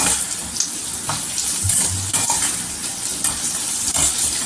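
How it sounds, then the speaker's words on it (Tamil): Raw plantain pieces go into a hot pan for a crispy valakkai varuval and are stirred, giving a soft frying sizzle broken by several scraping and clattering stirs up close. "இப்போ நம்ம எடுத்து வச்சிருக்க வாழைக்காயை சேர்த்துட்டு ரெண்டு பரட்டிட்டு"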